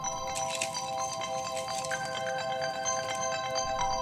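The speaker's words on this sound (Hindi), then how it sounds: "बेटा, तुम्हारा फोन बज रहा है।" A mobile phone ringing indoors with a steady tonal ringtone melody, moderately loud and continuous with faint clatter behind it and no talk.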